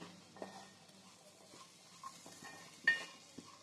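Chana masala curry being stirred in a pan with a spoon, giving soft scraping and occasional light clinks against the metal, quiet and close, with one sharper knock near the end.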